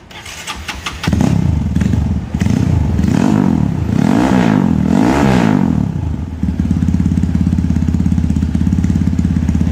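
A motorcycle fitted with a bore-up, stroke-up kit and a new aftermarket exhaust starts, then revs loudly in repeated rising and falling bursts before settling into a steady, throaty idle, close and dominant with no talking.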